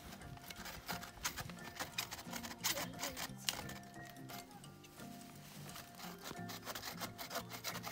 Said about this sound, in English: Got the boys sawing wood, making some firewood.